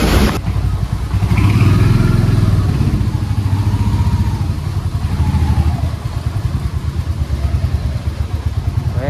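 Royal Enfield Hunter 350 motorcycle on a ride, its single-cylinder engine thumping steadily and loud up close with rhythmic pulsing, rising briefly as it accelerates, under wind noise.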